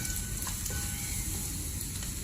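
Mushrooms frying with turmeric powder in a pan give a steady, close sizzle as they are stirred, the crackle running continuously with faint scraping and no talking.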